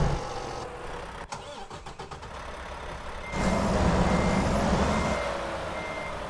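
A Mack Anthem truck in American Truck Simulator pulls away in first gear with its trailer stuck. Reversing beeps and a low engine hum come first, then the engine swells into a louder, steady drone that holds to the end.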